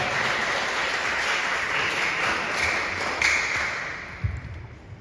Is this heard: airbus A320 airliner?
no